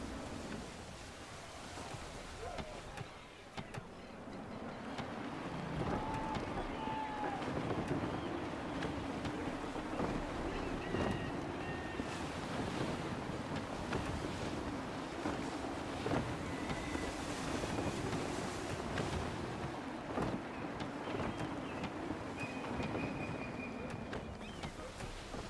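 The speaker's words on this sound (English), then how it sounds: "Gusty winds can be difficult to manage." Gusty wind blowing over a sailing ship at sea in Assassin's Creed III, a steady broadband rush with swells and faint creaks and water noise, continuous and moderately quiet throughout.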